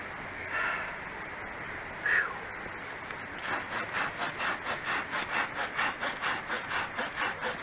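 Hand saw cutting through wood outdoors, a few slow scrapes at first, then a steady run of rhythmic back-and-forth strokes that grow louder and more regular toward the end, close by with no talking.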